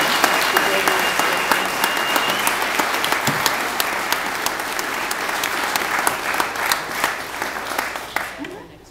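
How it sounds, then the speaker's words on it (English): An audience at a Boys & Girls Club donor night gives a sustained round of applause for an honoree, dense steady clapping from a crowd that thins out and fades at the end. "Let's all give Kevin one more big round of applause for his hard work and dedication."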